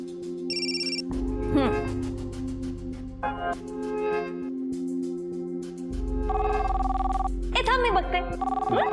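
A mobile phone rings with an incoming call indoors, a repeating electronic ringtone melody with buzzing tones that keeps going as people talk over it and background music plays.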